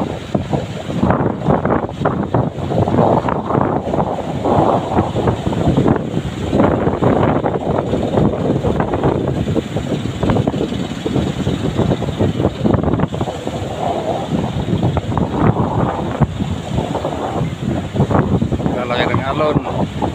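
Wind and rough sea water roar steadily around fishing boats and their boatmen, a dense, continuous rush with people talking throughout.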